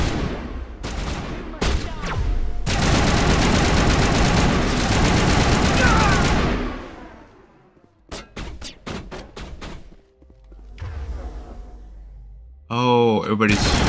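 Gunfire in Mass Effect Legendary Edition: dense bursts of rapid shots, a sustained loud volley, then several sharp separate cracks and a final burst, with a voice talking between.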